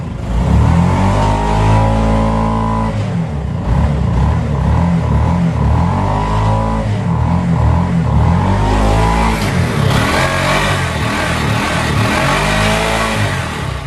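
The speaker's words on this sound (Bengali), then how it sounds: "এই যে আমরা এখন ইঞ্জিনের সাউন্ড শুনবো। একটু অ্যাক্সিলারেটর বাড়িয়ে দেন" A 2014 Bajaj CNG auto-rickshaw engine revving up and easing off repeatedly, loud and close, with a throaty idle between throttle bursts and no talk over it.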